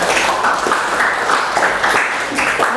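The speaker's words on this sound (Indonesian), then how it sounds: "beri aplaus dulu untuk kelompok 1," Classroom applause for presentation groups 1, 2 and 3 rolls on as a dense, steady clatter of many hands clapping close by, with some voices mixed in.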